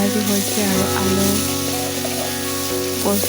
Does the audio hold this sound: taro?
yes